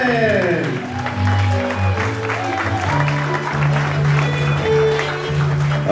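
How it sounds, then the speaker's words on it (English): Wedding guests applaud the groom's grandparents at a reception, with steady clapping under loud music. "Let's get a big round of applause for Tom and Mary Martin"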